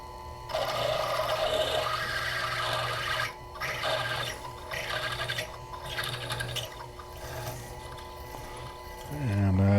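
A Proxxon FF230 milling machine drills with a 4.9 mm bit, giving a steady, close motor whine with a grinding edge that holds throughout and shifts lower in pitch near the end.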